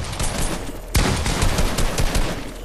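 Rapid gunfire in the video game Fortnite, a dense burst of overlapping shots with a loud sharp onset about a second in, continuing steadily and close up.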